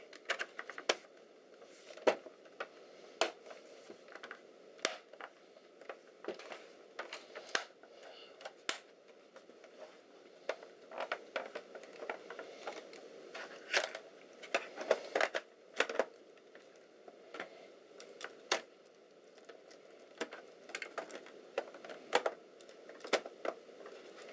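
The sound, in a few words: Clevo 5620p laptop keyboard being refitted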